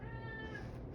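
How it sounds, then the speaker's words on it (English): A house cat meowing outdoors, a single drawn-out meow heard faintly at a distance against low background noise. "You might hear my cat meowing."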